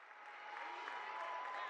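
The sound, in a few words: basketball game crowd cheering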